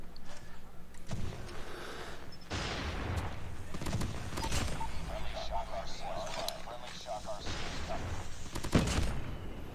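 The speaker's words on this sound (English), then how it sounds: "I ran into the stupid sentry gun!" Gunfire rattles in COD Mobile as a sentry gun fires during a match, with bursts of shots and sharp cracks scattered through the clip, mixed with other game noise and a player talking over it.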